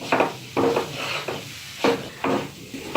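Fenugreek roasting in ghee in a pan, stirred with a spoon in several separate bursts of scraping and clatter against the metal, close and fairly quiet with soft sizzling between strokes.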